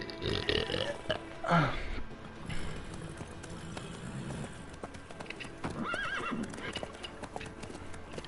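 Horse hooves clip-clop steadily in The Witcher 3: Wild Hunt as a horse named Swift travels, with neighs and snorts rising over the rhythmic steps and faint game ambience beneath.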